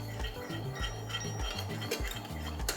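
Custard pastry cream thickening in a pot on medium heat, stirred steadily with a utensil that scrapes and clinks against the metal in a continuous, busy rhythm, close and alone.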